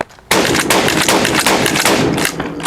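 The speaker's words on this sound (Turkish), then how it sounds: "CR 101 ile atış hazır ol." A CR 101 shotgun fires on a shooting range, a sudden loud blast that cuts in sharply and rings on as a dense, sustained roar with rough pulsing, close and alone without talking.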